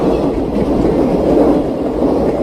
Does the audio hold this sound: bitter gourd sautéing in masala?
no